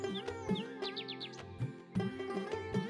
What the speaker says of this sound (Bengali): মাঝে মাঝে শালিক আর দোয়েল পাখির ডাক ভেসে আসছে।